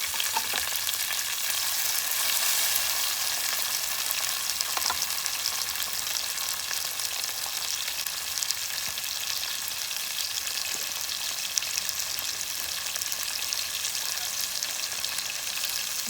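Tomatoes sizzle and crackle steadily in hot oil, stirred now and then, a continuous dense frying hiss that holds level from start to finish with no voices.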